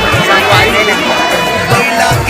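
A dense crowd at a village fair (mandai mela) in Chhattisgarh, a loud continuous babble of many voices close by, with no single voice standing out.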